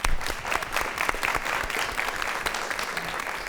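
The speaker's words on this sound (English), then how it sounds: "Please give her a round of applause." An audience at a legislative delegation meeting applauds, a dense, steady patter of many hands clapping throughout at moderate loudness.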